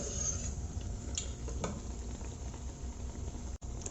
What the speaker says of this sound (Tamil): இந்த மாதிரி ஒரு பீஸாக போட்டு வறுத்து எடுத்துருங்க.